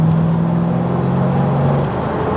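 A 2005 Saleen Mustang accelerates through the gears at moderate road speed, its engine a steady, close droning hum whose pitch holds and shifts slightly, with no talk over it.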